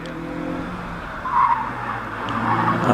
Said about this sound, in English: Richard Morris heads away in the Mazda MX-5.